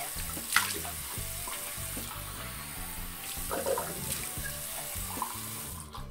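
Cold water runs steadily from a tap into a sink, a continuous close splashing stream through the clip with a few small knocks and clatters.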